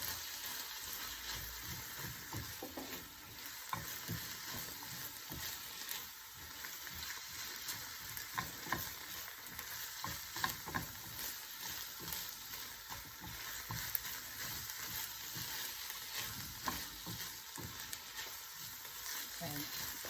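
Shiitake mushrooms, dried shrimp and bamboo shoots sizzle and hiss steadily in a wok, with spatula scrapes and stirring clacks sounding at close range throughout, no voices.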